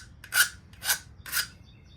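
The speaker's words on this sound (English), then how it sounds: "I'm on hand file duty today." A hand file rasps across metal during rust repair on a TE51 Corolla bumper, three even strokes about half a second apart, close and crisp with quiet gaps between.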